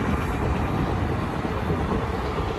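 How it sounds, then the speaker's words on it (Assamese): A train passing close by, a loud steady rumble and roar of rolling wagons with faint rhythmic clatter, continuous throughout. "এৰোপ্লেন নহয় ট্ৰেইন"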